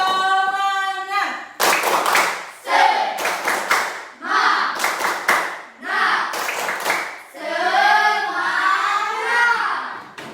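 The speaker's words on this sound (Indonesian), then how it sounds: "Kita lakukan tepuk semangat dulu." Schoolchildren in a classroom perform a rhythmic spirit clap, crisp bursts of unison clapping in a patterned beat broken by pauses, mixed with their loud chanted voices throughout.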